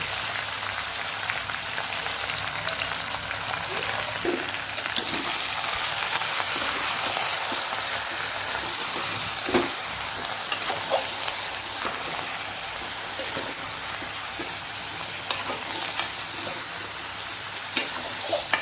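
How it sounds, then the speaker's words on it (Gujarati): Stuffed eggplant and potato sautéing in hot oil with leftover masala and tomato for a Kathiyawadi curry, a constant busy sizzle with occasional soft stirring knocks. "આપણે તેલ સાથે રીંગણા અને બટેકાને સાતડી લેવાના છે વઘારમાં"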